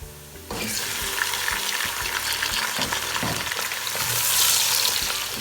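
Chicken pieces go into hot oil with browned onions in a pot for restaurant-style degi biryani, setting off a loud, steady sizzle and fry with stirring scrapes that continue throughout.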